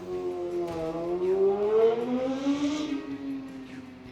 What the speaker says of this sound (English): That was a loud motorcycle.